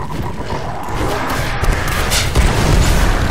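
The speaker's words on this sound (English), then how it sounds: "There's some guys coming up here that we can try this new grenade on." Grenade blast in the Destiny video game, a loud booming explosion with a low rumbling roar that swells and lingers through the whole stretch.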